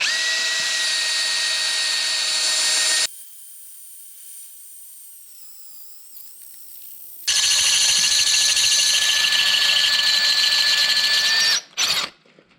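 A Matco Hyper Step drill bit grinds through metal in two loud, steady bursts of power drilling separated by a quiet pause, with a brief final whir at the end.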